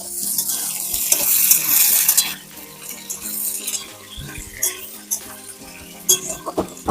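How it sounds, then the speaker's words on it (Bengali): Cut potatoes for a crab curry fry in a pan, giving a steady hiss and sizzle broken by the clinks and scrapes of a spatula stirring against the metal. "যতক্ষণ আমাদের আলু ভাজা হচ্ছে"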